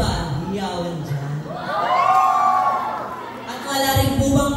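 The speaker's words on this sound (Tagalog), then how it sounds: "At wala rin po ba hiyawan dyan?" A pageant crowd cheers, whoops and shouts, with a loud swell of voices in the middle and chuckling around it, while a host talks at the start and end.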